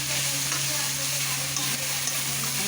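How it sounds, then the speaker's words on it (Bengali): Leafy greens (saag) frying and being stirred in a pan over a high gas flame, giving a steady, close sizzle with a constant hum and no talk. "এই যে কেটে নিয়েছি, রান্না করছি, ভাজা করছি।"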